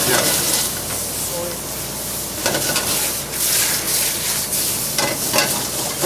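Garlic sizzles in a hot pan with olive oil on a gas stove during a cooking class, a loud, close, steady frying hiss with occasional stirring clatter and faint voices in the background.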